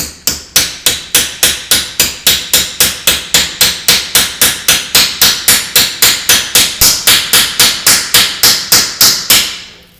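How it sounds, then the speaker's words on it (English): A hammer drives an old bolt into a scooter brake, with about twenty-seven sharp, loud metallic strikes in a fast, steady rhythm and no talking. "push on the brake with that, and we'll hammer the bolt"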